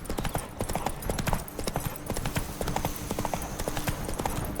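Horse hooves clip-clop steadily on hard ground in The Witcher 3, a close, regular rhythm of hoofbeats that runs through the whole stretch, with a faint whinny at one point.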